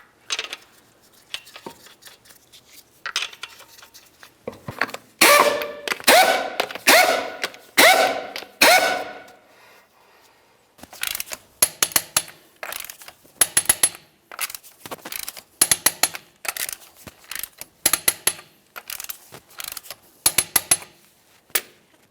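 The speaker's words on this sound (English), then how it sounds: "torque the lug nuts to 100 foot-pounds" Lug nuts on a 2006-10 Ford Explorer rear wheel are tightened with a torque wrench, giving bursts of rapid metallic ratcheting clicks separated by pauses, close and loud, with no voices.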